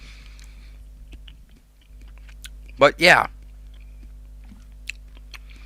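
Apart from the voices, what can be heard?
person chewing nuts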